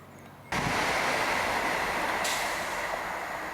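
A train suddenly roars past close by, a loud broad rushing rumble that stays steady and slowly eases off.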